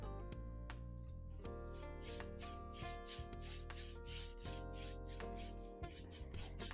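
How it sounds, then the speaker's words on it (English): A wood stain mixture is scrubbed by hand into dollhouse kit flooring, giving repeated rhythmic rubbing strokes, close and moderately loud, over a steady background hum with no talking. "And just keep scrubbing it in."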